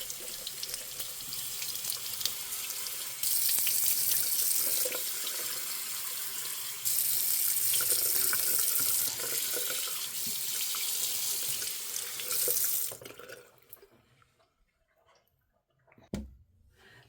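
A bathroom sink tap runs steadily while someone rinses their face, a loud continuous splashing stream with slight surges, cutting off near the end, followed by near silence and a faint click or drip.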